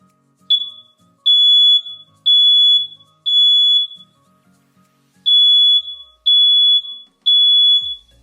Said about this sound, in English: it's gonna make it go beep, beep, beep. It's gonna sound something like this.